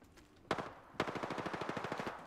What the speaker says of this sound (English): That's an SMG.